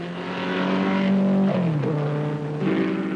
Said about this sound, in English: Down from Country Corner to Village they stream, with Fangio kicking up clouds of dust as he